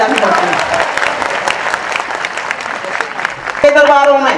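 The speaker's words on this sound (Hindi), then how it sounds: "तो ताली बजाइए जोर से" Audience at a Hindi poetry recital clapping loudly on cue, a fairly steady wash of applause mixed with a speaking voice and ending in a louder burst.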